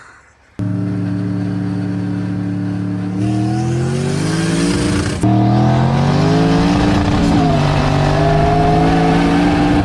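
Turbocharged 4.8 V8 engine in a Mini Cooper fitted with a junkyard-parts turbo kit, revving loudly and close up, its pitch climbing in steps as the turbo spools, with a rising whistle over the roar.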